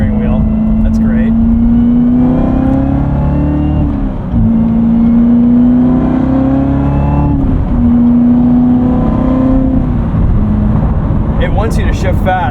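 A 2019 Chevrolet Corvette Z06 with a seven-speed manual, driven at night, its exhaust giving a loud continuous droning rumble that rises and dips with throttle, with a brief shift gap; people talk over it throughout.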